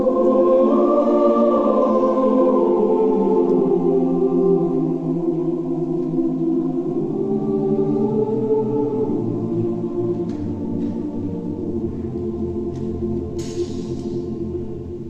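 A choir sings the home theme of a choral piece on a neutral oo vowel, a slow sustained melody in warm overlapping harmony that fades gently toward the end.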